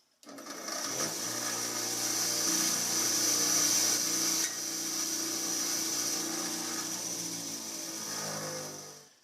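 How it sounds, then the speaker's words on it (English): A bolt is held against a spinning wire wheel in a garage, giving a loud, close, sustained whirring grind with a high brushing hiss that starts abruptly, holds steady and tapers off at the end. "We're going to go ahead and clean this up on the wire wheel so it goes in nice and smooth."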